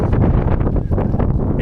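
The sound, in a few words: strong wind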